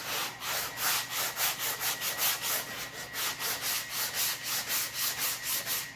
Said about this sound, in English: I don't want to sand here too much, I want to sand here this way